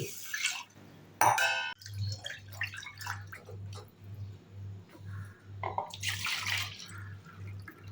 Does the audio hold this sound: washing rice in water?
yes